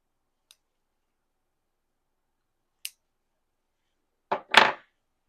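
Scissors trim press-on nails, giving a faint tick or two and then a pair of sharp, close snips near the end against otherwise silent surroundings.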